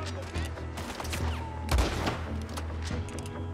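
Gunfire in the Western video game Red Dead Redemption 2, several sharp shots and a heavier blast over a low rumbling backdrop, moderately loud with no talk.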